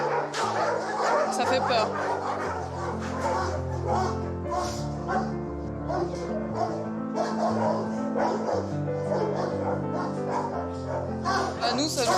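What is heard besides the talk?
stressed young husky dog barking and whimpering in shelter box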